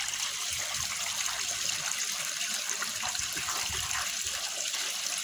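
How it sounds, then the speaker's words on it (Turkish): Tap water runs steadily over raw tripe being washed, a continuous, fairly loud splashing rush with no pauses or talk. "Su üstüne akıyor."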